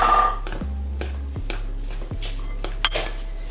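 A spoon knocks and scrapes around a bowl of plant-based honey cornbread batter, a few sharp clinks and taps at irregular intervals over a low steady hum, close and fairly quiet.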